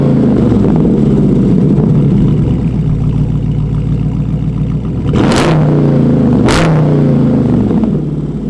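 A Dodge Challenger 392 R/T Scat Pack V8 rumbles loudly and steadily close by, then gives two sharp throttle blips near the end, each a quick rising roar that drops back to the deep idle.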